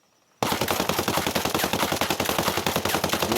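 An AK74 rifle is fired from the hip in Ghost Recon Breakpoint, emptying a full magazine. After a brief quiet start, a loud, rapid, evenly spaced automatic burst runs to the end.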